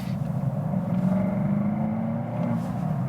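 BMW X7 V8 accelerating in sport mode, heard from inside the cabin as a muted low rumble with a gently rising tone, distant and subdued under road hum.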